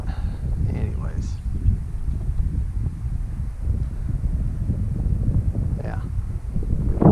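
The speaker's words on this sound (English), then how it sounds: "the wind is so strong that your motor isn't even strong enough really to penetrate it" Strong wind buffets the microphone aboard a small boat, a constant low rumbling roar with gusty surges, while a person briefly speaks over it.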